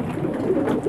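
Domestic pigeons coo softly in a low, murmuring stream, several birds close together in a loft with a faint hiss behind them and no speech.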